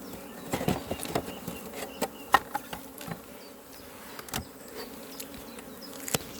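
Honeybees buzz faintly around a hive frame bearing emerged queen cells during a hive split, a soft continuous hum dotted with light clicks and handling taps, no talking.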